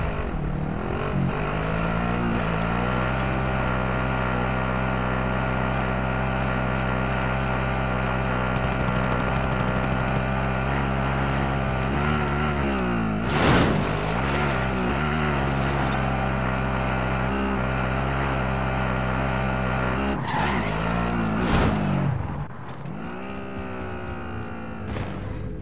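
A vehicle engine drones steadily while driving in a Call of Duty battle royale match, a continuous low hum broken by two brief noisy bursts before it eases slightly near the end.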